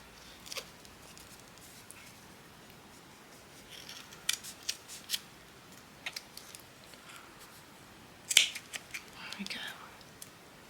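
Scissors snipping a handmade shabby-style craft mushroom, trimming the top thinner: a scatter of soft, close, crisp snips and clicks, with a brief louder cluster of cuts near the end, no talking.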